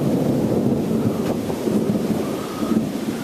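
Thunder rumbles through a building windstorm ahead of a micro-burst with flooding, a steady broad roar of wind and rain carrying low booming swells, close and loud with no talk.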